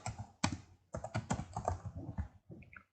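Typing on a computer keyboard while entering a command in Command Prompt: quick irregular key clicks close up, ending with a few lighter taps.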